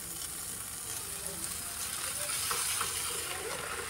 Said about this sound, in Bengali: আমি জানি না আমারটাও পুড়ছে কিনা।